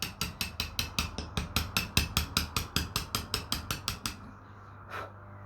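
A hammer drives a chisel down the centre of a stone to cut a groove, struck about twenty times in a fast, even rhythm. The blows are close and sharp, then stop, followed by one faint tap.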